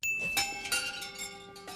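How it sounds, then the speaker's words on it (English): Metallic wind chimes in Jabba's palace from Return of the Jedi, several bright, ringing strikes in quick succession that overlap and linger, close and clear, with no talking. "Why does Jabba have wind chimes in a place where there is rarely wind?"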